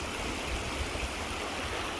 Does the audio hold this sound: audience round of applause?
no